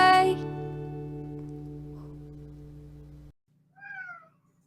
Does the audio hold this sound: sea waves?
no